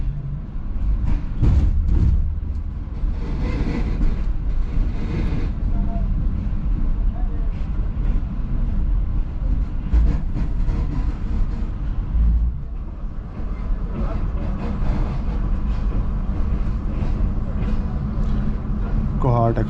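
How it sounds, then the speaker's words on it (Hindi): Green Line passenger train rumbling steadily as it approaches Rawalpindi railway station, a continuous low clatter and roar heard from on board, with some talk over it. "3:17 पे अप्रोच बना रही है ट्रेन हमारी रावलपिंडी रेलवे स्टेशन पे"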